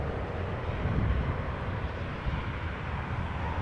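A KLM Boeing 777-200 arrives at Amsterdam Schiphol from Guayaquil, Ecuador, a continuous, fairly loud low roar of jet engines with a windy rumble and no speech over it.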